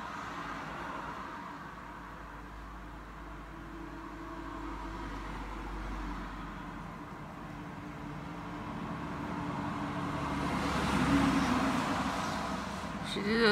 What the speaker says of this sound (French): Si j'habite sur une route où il y a 3 tonnes de voitures qui passent